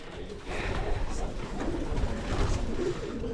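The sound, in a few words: pigeons cooing in an aviary loft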